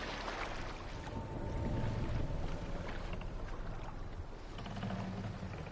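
A boat sets sail in Assassin's Creed Valhalla on PS5, with water rushing against the hull and wind blowing in a steady, fairly close wash that swells midway through. No one speaks.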